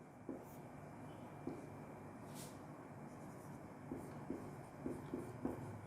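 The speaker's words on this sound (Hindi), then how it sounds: "तो थर्ड एलोट्रोपिक फॉर्म लिखेंगे अपन" Writing on a board during a chemistry lesson on phosphorus allotropes, heard as faint, scattered taps and strokes over a quiet room tone.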